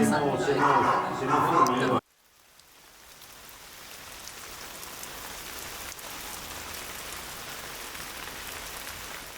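Steady rain falls outside a window in Venice, a dense even patter that fades in after a brief burst of speech and then holds alone.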